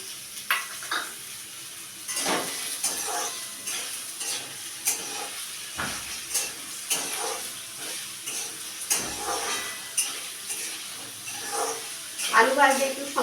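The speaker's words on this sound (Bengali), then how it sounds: "আলু ভাজতে দিয়ে দিলাম।" Potato pieces frying in hot oil for a bitter gourd chorchori, a steady crackling sizzle with the scrape and clink of stirring in the pan, and a voice speaking over it.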